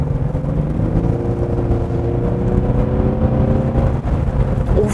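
A Genesis G80's 3.5-litre V6 gasoline engine pulls hard in sport mode, a steady rising drone heard from inside the cabin under road noise, with no voices.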